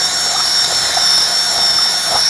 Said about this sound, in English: I'm just gonna do a quick drill to get the rest of that resin out there